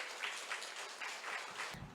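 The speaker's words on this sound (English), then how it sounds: "Please welcome him with a big round of applause." Faint, steady audience applause welcoming a speaker at a Korea-OECD seminar, an even wash of clapping from a distance with no voices over it.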